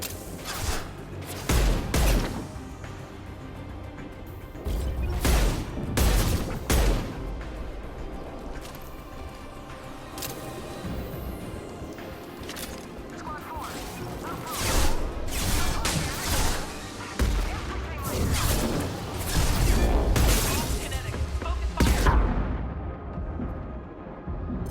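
Mass Effect 2 combat on Insanity difficulty brings sharp, heavy weapon shots spaced irregularly, each a loud crack with a short tail, over ongoing game ambience and effects.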